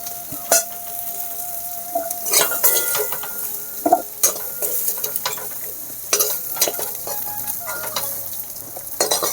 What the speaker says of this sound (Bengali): আলু ফুলকপি দুটোই ভাজা করে নিয়েছি একসাথে, নামিয়ে নেব এখন